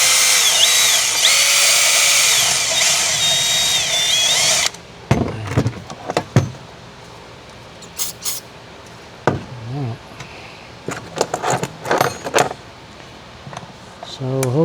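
A power tool, likely a drill, whines steadily for several seconds while removing a bolt on a boat during a Garmin navigation unit install. Short clanks and tool handling follow, with a person speaking in between.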